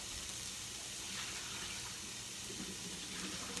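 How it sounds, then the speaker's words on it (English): Water being poured out of a full cooking pot into a sink, a steady broad splashing and gushing stream that runs continuously at moderate level with no talking. "I'm going to empty some of the water out"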